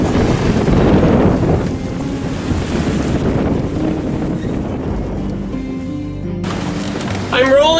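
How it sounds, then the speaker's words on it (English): A sailboat rolls in a rough swell, with steady wind buffeting and rushing water filling the whole stretch, and a brief creak or clatter near the end. "The bow is rolling too much in this swell."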